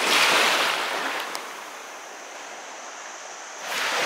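Ocean surf washing onto a rocky beach in Shiretoko, Hokkaido, a steady broad roar that eases briefly and then swells again, with wind noise and no voices.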